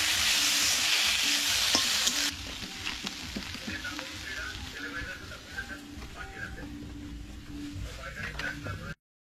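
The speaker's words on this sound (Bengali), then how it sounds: "শিম ভাজা একদম হয়ে যাবে, সব শেষে বড়িটা দিয়ে নেড়ে ছেড়ে নামিয়ে নেব।" Broad beans frying in a pan, a broadband sizzle that is loud at first and then settles into a steadier, softer hiss with stirring scrapes, and no voices.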